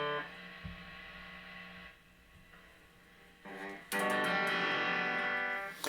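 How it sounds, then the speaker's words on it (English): Electric guitar power chords through a distortion effect, sustained buzzy chords that drop briefly, then a heavier, louder chord rings out near the end, played alone with no talking. "Some basic power chords."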